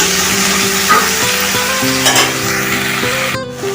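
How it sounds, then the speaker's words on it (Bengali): Taro with turmeric and salt fries in a pan, a loud, steady sizzle filling the whole stretch with occasional stirring, up close with no talking. "এরপর ওটাকে একটু ভাজতে হবে কিছুক্ষণ ধরে ভাজতে হবে"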